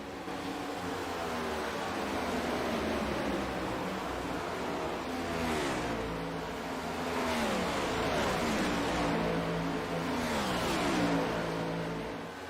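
Race car engine from the Michigan 100 on an oval track, a steady loud roar whose pitch rises and falls in repeated sweeps as the car laps and passes others, with no talk over it.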